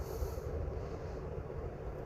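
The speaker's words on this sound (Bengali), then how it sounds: "এই দেখেন মেট্রো চলতেছে, মানে অনেক জোরে চলে" A metro train in Riyadh rumbles past with a steady low roar and whoosh, continuous and fairly loud, with no talking.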